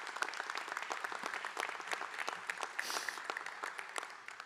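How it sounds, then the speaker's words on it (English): An audience applauds at the LSU College of Art & Design commencement ceremony. The clapping is dense and continuous, heard from some distance in a large space. "Give them a round of applause."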